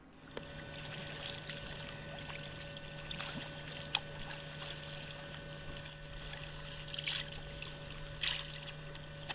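Kayak paddling on open water: faint dripping and gentle splashes from paddle strokes over a steady low hum, with no talking.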